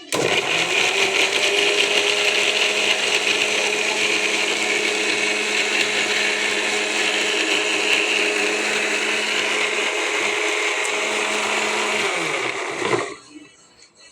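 An electric mixer blends oranges for juice, a loud, steady motor whir that runs continuously for about twelve seconds before winding down and stopping near the end.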